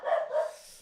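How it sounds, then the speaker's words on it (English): A dog gives a short, loud, close bark that trails off quickly, a single sharp yelp heard alone. "Stupid dog."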